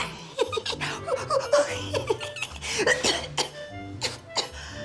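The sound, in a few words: coughing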